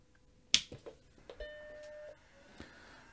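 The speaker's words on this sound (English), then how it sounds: "Okay, it chimes and hard drive spins up." A Macintosh Classic under restoration, its logic board missing capacitors, powers on with a sharp click followed by a sustained startup chime tone lasting about a second, then fainter clicks as the hard drive spins up; no voices.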